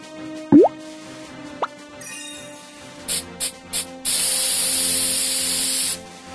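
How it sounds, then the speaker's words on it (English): Fire extinguisher spraying in a kids' earthquake safety game: after a couple of cartoon pops and a chime, short hissing bursts give way to a steady two-second spray, loud and alone with no talk. "You must put the fire out with the extinguisher."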